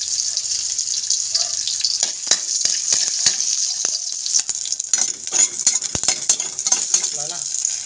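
Oil sizzles and spatters steadily in a smoking-hot pan while frying for ginataang papaya with dried fish, with scattered clinks and scraping strokes of a utensil throughout.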